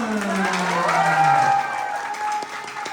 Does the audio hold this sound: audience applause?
yes